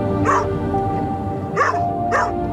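Three short barks from a trainee assistance dog, the first alone and two more closer together a second later, over a busy background hum.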